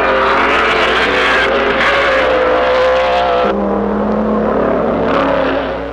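Pre-war Mercedes W125 race cars at full speed, a loud, steady engine roar that shifts pitch midway as the cars race past, continuous and with no talk.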